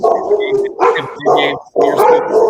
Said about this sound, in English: your dogs are not a fan of Izzy Mukuamu